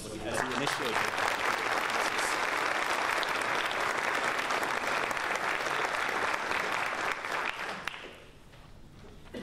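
Sustained applause from a conference audience fills the room at a steady, dense level, then thins and fades toward the end.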